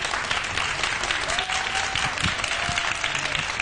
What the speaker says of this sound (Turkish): Bir de kız diyenlerden bir alkış alalım.